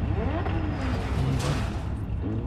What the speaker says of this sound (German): Hör ich Autos kommen?